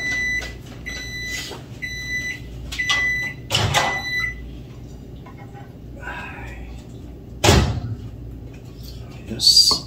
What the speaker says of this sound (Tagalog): Kaya hintayin na lang natin sa micro.